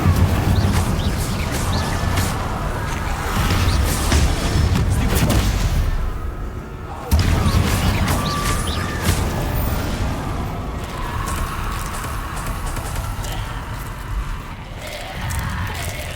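Fire spells cast over and over in Hogwarts Legacy, a dense, roaring crackle of blasts and booms with game music beneath, breaking off briefly around the middle before the loud barrage resumes.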